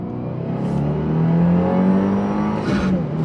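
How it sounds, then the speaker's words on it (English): Inside a stock 2022 Subaru WRX, the engine climbs steadily toward its redline under full acceleration, a rising drone heard up close with no talking. "I haven't actually taken it all the way to red line. So we will go up."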